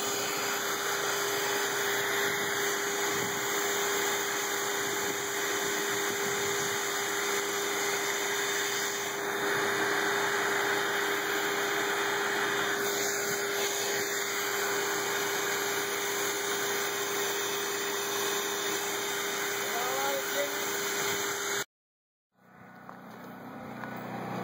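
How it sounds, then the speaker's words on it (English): A gentle vacuum hums steadily while capturing honey bees into a cage, with a constant drone and faint bee buzzing, and the motor cuts off near the end. "Very gentle vacuuming."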